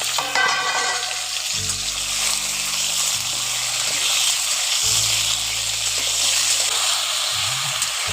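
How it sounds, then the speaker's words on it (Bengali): Moringa drumsticks and potato pieces stir-fry in a pan with softened tomato, giving a steady, close sizzle with scraping from stirring over a low background hum. "এগুলোকে একটু নাড়াচাড়া করে ভেজে নেব"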